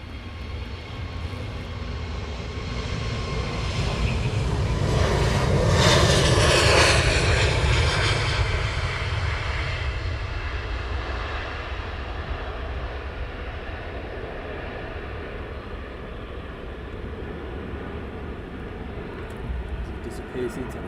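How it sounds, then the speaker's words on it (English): A Wizz Air airliner taxis out at Luton Airport, its jet engines roaring loudly and swelling as it passes nearby before easing to a steady rumble, while someone talks over it. "Another Wizz Air now just beginning his taxi out."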